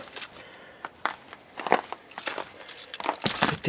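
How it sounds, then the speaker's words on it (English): Keys jangling and scraping as they go into the ignition of a pickup truck that sat unused through two winter months, short metallic rattles and clicks up close, a louder burst at the end. "Put the keys in the ignition here."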